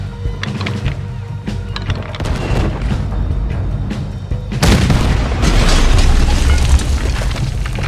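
Cannon blasts from a ship battle in the video game Red Dead Redemption 2, heavy booming bursts over constant loud rumbling combat noise, with a bigger, louder blast near the middle that stays intense afterward.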